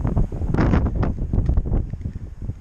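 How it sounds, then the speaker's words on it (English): Strong gusting wind roars across a snowy mountain pass, buffeting the microphone in continuous low rumbling waves with no let-up. "The wind is picking up too, which I expected."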